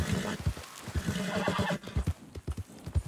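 A horse in the video game Red Dead Redemption 2 whinnies loudly over steady hoof clip-clops, followed by a rhythmic series of hoofbeats trotting nearby.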